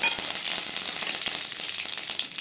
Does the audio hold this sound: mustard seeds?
yes